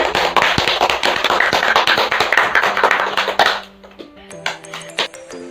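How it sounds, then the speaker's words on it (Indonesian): Students clapping together in a class, a dense burst of hand claps that thins out into a few scattered claps near the end. "itu kita applause dulu bareng-bareng untuk kalian semua, tepuk tangan."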